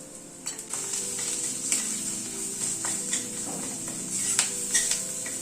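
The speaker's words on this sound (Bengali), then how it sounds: "গ্যাসের ফ্লেমটাকে কিন্তু কমিয়ে নিয়ে আমি মশলাটা কষাচ্ছি।" Spices with Kashmiri red chilli, turmeric, salt and curry leaves sautéing in a pan on a low gas flame, a steady soft sizzle under scattered stirring scrapes and light clicks, close and continuous.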